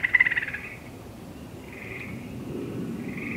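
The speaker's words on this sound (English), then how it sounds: "That's a tree frog." A tree frog calls outdoors before rain, giving short bright trilling bursts that repeat a few times at moderate distance, clear above a soft ambient hiss, with no talking.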